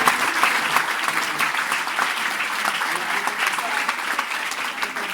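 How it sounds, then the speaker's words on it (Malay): Crowd of teachers and students applauding at a school religious talk, a steady dense patter of clapping, moderately loud and unbroken from start to end. "Berikan tepukan untuk diri anda, ya Allah."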